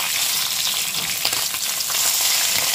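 Food sizzles and crackles in hot frying oil just after the pieces are turned over, a dense, steady hiss running throughout with no one speaking.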